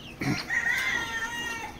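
Chickens and small chicks inside a new 40-by-12 poultry shed, faint soft clucks and thin high peeping over quiet background, brief and without speech.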